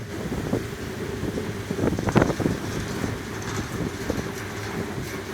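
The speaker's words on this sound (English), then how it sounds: "I can hear pieces of that thing rattling too now that I'm closer, like metal." Strong gusts from an 80 mph wind and rainstorm on a hike rattle and clank loose metal pieces of a nearby structure, a steady roaring rush with brief louder bursts of rattling.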